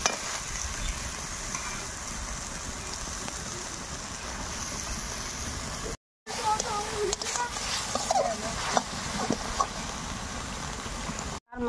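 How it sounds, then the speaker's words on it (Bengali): Spices and chicken for a red, fiery chicken curry fry and get stirred in a pan, giving a soft continuous sizzle with scraping stirs, broken by two brief dropouts to silence. "মশলা ভাজিয়ে নিচ্ছি।"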